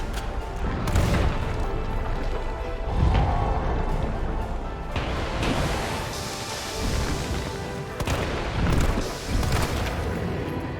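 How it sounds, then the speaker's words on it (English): Pistol shots and booming explosions of the nodes on Nemesis in the Resident Evil 3 Remake video game, coming as repeated loud bursts over a noisy, rumbling game soundscape. "Fire at the nodes with a pistol. 4 to 5 shots make them explode."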